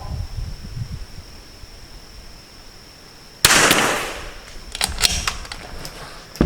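A single sharp rifle shot fired from a sandbagged bench-rest position cracks out loud and close, followed by a decaying outdoor echo and a few fainter clicks and rustles from handling the gun afterward.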